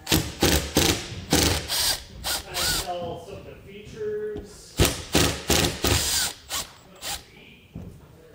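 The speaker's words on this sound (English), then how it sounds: "we are going to remove the screws that hold it in place" A power tool backs out the screws holding a Furrion Vision S wireless camera mount on a 2009 RV, in a series of short, close, whirring drill bursts with brief pauses between them.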